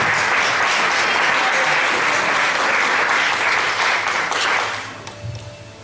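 A church congregation breaks into loud, dense applause that holds steady for several seconds and then fades out, leaving a low murmur.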